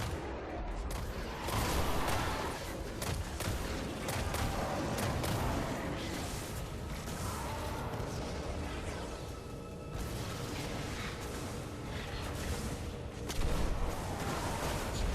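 Thermite grenade detonating in Destiny: The Taken King, a sustained dense roar of fiery crackle and booming rumble that fills the whole stretch, loud and continuous with brief swells near the start and end.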